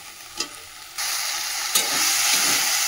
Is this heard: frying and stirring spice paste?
yes